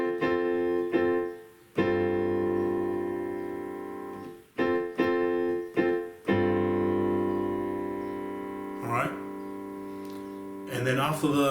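A beginner's piano introduction with the left hand holding a G: sustained, ringing chords struck several times, some decaying into silence, ending with a few quicker notes.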